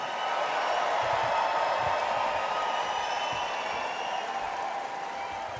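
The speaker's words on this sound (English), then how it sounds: "Let me hear you cheer if you support Israel." A large convention crowd at the Republican National Convention in Milwaukee cheers continuously, a dense steady roar of many voices with scattered applause, even in loudness throughout and without a single speaker standing out.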